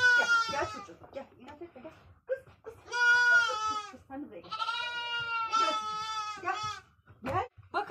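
A small lamb bleats in repeated loud, wavering cries at close range on a village farm, with a voice speaking between the calls.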